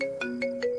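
A phone rings unanswered, its electronic ringtone repeating a short rhythmic pattern of bright tones over a steady sustained note, clear and close with no voices.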